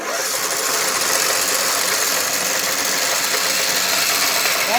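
An old engine with zero compression, probably seized, is cranked using a booster pack and gives off a steady, fast, even whirring churn that is loud and close and stays constant throughout.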